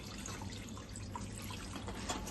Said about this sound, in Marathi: आता आपण पास्ताला थंड पाण्याने वॉश करूया